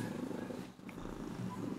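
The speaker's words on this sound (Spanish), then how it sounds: "además tengo una gatita aquí" Kitten purring close by, a soft low rhythmic rumble that continues through the moment with a brief dip midway, quiet overall.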